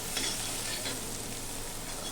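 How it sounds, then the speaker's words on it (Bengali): Chopped onions fry in hot oil with a little salt, giving a soft, steady sizzle throughout with no talking. "আমি খুব সুন্দরভাবে পেঁয়াজটা লাল লাল করে ভেজে নেব।"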